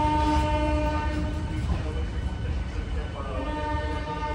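A local train pulls away from Krishnanagar City station with a sustained horn-like tone and heavy rumbling, wheels starting to clatter as it gains speed.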